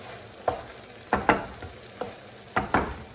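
Pasta with zucchini being stirred in a frying pan, giving a handful of sharp scraping and clattering strokes at an uneven pace over a soft steady sizzle, close by and without talk.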